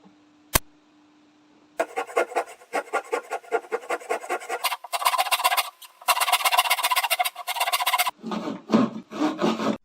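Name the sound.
handsaw sawing wood board of IKEA Kallax shelf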